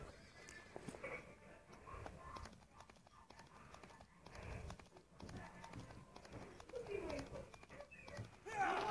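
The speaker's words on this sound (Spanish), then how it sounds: "Voy a llamar a mi caballito." A horse whinnies and its hooves clip-clop outdoors, the neighing and steps mixed with people talking throughout and a louder burst near the end.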